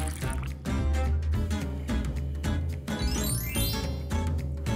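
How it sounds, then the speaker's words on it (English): Melted gummy bear liquid poured into a glass: a steady wet filling and dripping sound, fairly quiet, under a tonal music bed lasting several seconds. "Pour the gummy liquid into a glass."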